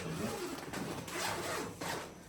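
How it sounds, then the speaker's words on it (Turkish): A new, stiff zipper on a travel cot mattress being pulled open in short, scratchy rasping strokes, close and fairly loud, with brief pauses between pulls. "Şimdi ben bunu da bu şekilde fermuarı yeni olduğu için biraz zor"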